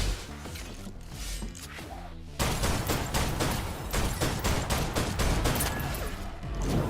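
Gunfire in the Snowbreak: Containment Zone video game: rapid bursts of automatic shots that get louder and denser partway through, crackling in close, fast succession with mechanical clatter and no talking.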